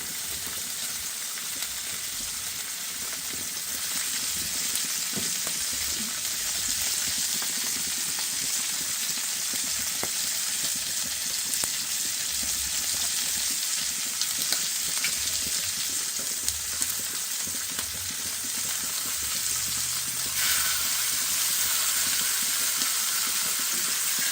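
Steak fries in a pan with a loud, constant sizzle and crackle that holds steady throughout, sharpening slightly near the end, with no voices.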